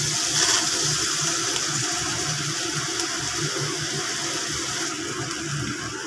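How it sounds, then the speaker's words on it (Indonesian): Water poured steadily into a pot of beef with tomato, a continuous close splashing, gurgling flow that runs evenly for several seconds before easing slightly near the end, with no voices. "Tambahkan air."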